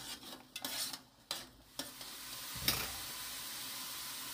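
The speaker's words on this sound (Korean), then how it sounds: "끓는 물에다가 천일염 반 큰술만 넣을게요" Half a tablespoon of sea salt drops into a pot of boiling water set for blanching cabbage. Soft bubbling and a few brief clinks and rustles come up close and quiet, ending in one sharp sprinkle-like burst before settling into a low simmer.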